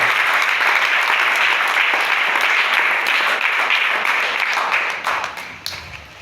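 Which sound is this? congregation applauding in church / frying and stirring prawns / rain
congregation applauding in church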